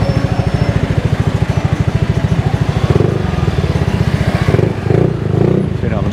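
A motorcycle engine in Angeles City, Philippines putters at a steady, rapid idle nearby, then revs up in a few short surges.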